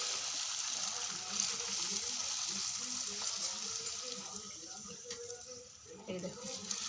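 Puri dough deep-fries in hot oil with a steady, close, hissing sizzle, while a person talks over it throughout.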